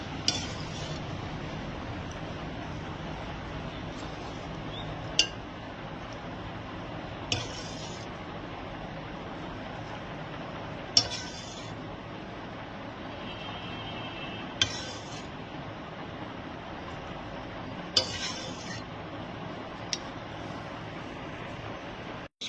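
Homemade ghee strained with kitchen utensils: sparse metallic clinks and taps every few seconds over a quiet, steady background hiss, close by.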